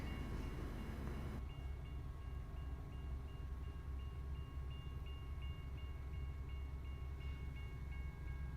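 Stationary train sitting on tracks in downtown Detroit, a steady low idling rumble with a faint repeating mechanical tone pattern, after a brief louder noise burst at the start.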